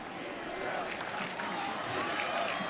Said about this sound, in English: And again, this Arizona crowd.